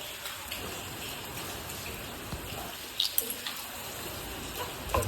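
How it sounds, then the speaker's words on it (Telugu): Steady rain falls in Teynampet, a dense, even wash of drops with a few louder spatters near the end. "వర్షం ఇంకా ఆగల, ఇంకా పడతానే ఉంది."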